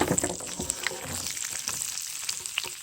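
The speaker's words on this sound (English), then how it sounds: "add all the pepper and garlic and just saute" Serrano peppers and garlic sauté in a pan with cumin seeds, giving a steady close sizzle with small crackles and pops throughout.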